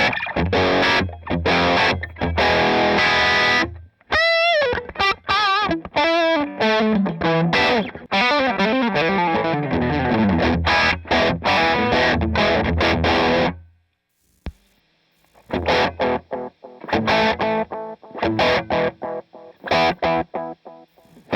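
An electric guitar plays through an amp in distorted, effected bursts of chords and notes, loud and close, with sharp pauses and a quieter broken passage near the end.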